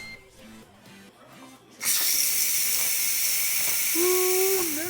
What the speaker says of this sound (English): all the steam is released